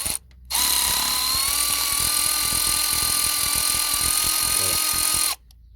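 A power tool whirs steadily for about five seconds while unscrewing bolts on the timing belt cover of a Volvo V40 D3, a continuous high motor whine with a rattling mechanical undertone, starting and stopping abruptly.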